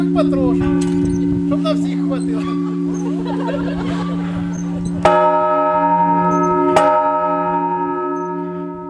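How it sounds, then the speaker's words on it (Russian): A newly consecrated church bell at the Nikolo-Feodosievsky church in Karmazinovka rings out in its first peals. Two strong struck tones ring on with long shimmering decay over a steady hum, after murmuring voices of a gathered crowd. "Со светлой радостью слушают звон первого колокола будущие прихожане Николо-Феодосиевского храма"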